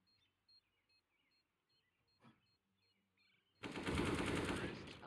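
AK rifle fire in CS:GO erupts as a loud, dense burst of rapid shots after a stretch of quiet game sounds and a single click, continuing steadily to the end.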